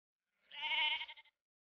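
A sheep bleating in a herd in Idaho sheep country: one clear, close, wavering bleat of about a second, heard alone.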